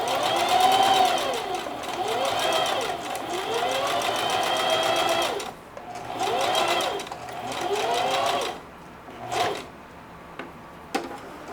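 A sewing machine stitches denim in fast, loud bursts of rhythmic mechanical chatter with a whirring motor, close by, pausing between runs and ending in a few short taps.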